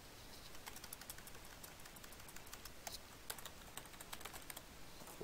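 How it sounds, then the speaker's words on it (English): Close, quiet clicking of a computer keyboard as a password is typed, an uneven run of small key taps at a steady pace with no voices. "Type in a password."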